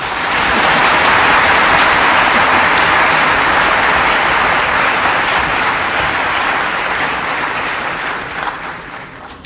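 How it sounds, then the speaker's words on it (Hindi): Loud, dense applause from a large audience fills a hall at a formal ceremony in Delhi's Vigyan Bhawan, sustained clapping throughout that eases slightly toward the end, with no talking over it. "थोड़ा ताली तो बजाओ"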